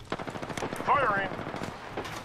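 Rapid automatic gunfire from the video game Apex Legends, a steady burst of repeated shots with a voice speaking over it.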